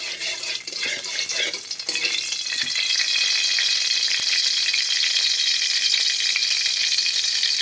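Cumin seeds and spices dropped into hot oil in a wok, a bright crackling sizzle that builds over the first seconds and then holds as a steady, close hiss.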